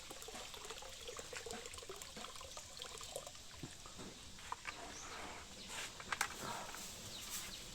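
Water splashes and trickles steadily as it is poured out for cattle to drink on a farm, a soft continuous pouring with small irregular splashes and drips, fairly quiet and free of speech.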